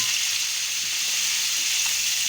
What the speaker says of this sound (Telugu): 3 లేదా 4 నిమిషాల పాటు ఆయిల్లో బాగా ఫ్రై చేయాలి